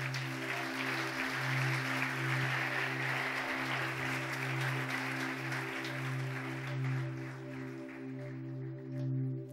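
A church congregation claps steadily for about ten seconds during a Spanish-language sermon, a broad even wash of applause with a sustained musical tone running underneath throughout.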